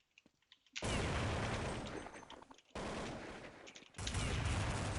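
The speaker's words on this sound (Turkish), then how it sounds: "adama sıktım" Automatic rifle fire in the Counter-Strike 1.6 video game: three loud sustained bursts with brief gaps between them, close and dominant, with faint clicks just before the first burst.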